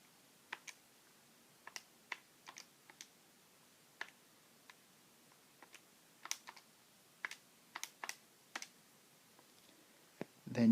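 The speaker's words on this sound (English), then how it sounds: "So if you type that into your calculator" Numbers are entered into a calculator as a scattered series of light, close plastic key taps in quiet surroundings, with no talking.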